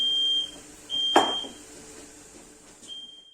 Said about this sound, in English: Sorry about the fire alarm there.